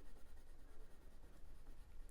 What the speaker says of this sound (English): So I've got the warm grey 2 and the Polychrome